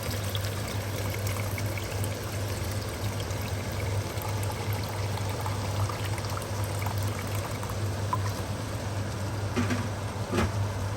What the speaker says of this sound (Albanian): Tash morëm ujë të ftohtë,